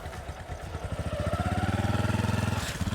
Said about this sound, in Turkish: Kardeşim geçiyor, sonra ben biniyorum motora.